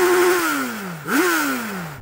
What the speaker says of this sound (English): Chris, make some noise with your bike and its 4 cylinders.